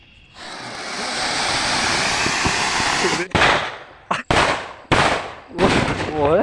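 A long roaring, crackling burst like a big firecracker going off during village Diwali celebrations, followed by several sharp loud bangs and pops with brief gaps between them.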